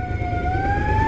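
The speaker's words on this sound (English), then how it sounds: "Fire truck." A fire truck siren wails steadily in the distance, its rising tone sustained over a low rumble of traffic.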